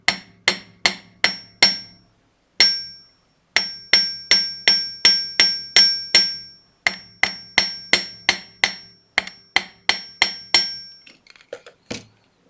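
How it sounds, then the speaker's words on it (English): A metal hammer taps wire earring components on a steel bench block, giving sharp, ringing strikes in quick rhythmic runs of four to ten blows separated by short pauses, close and alone. "Hammer that down until you're happy with it."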